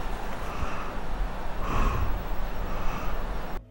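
Michael Myers' heavy asthmatic breathing from a Halloween fan film, slow raspy inhales and exhales with a swell in the middle, close and alone, no talking.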